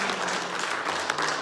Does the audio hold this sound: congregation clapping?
yes